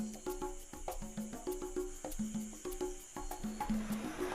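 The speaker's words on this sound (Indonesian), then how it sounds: "di pondok tidak ada hiburan selain suara katak, jangkrik, dan juga burung" Frogs, crickets and birds calling at night in a village garden by a hut, with repeated croaks and chirps layered over a steady insect buzz, fairly close and continuous without talk.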